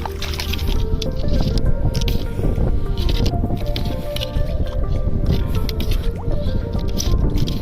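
Wet squelching and gurgling of water forced out of an octopus hole during octopus fishing, steady and loud with bubbling drips throughout.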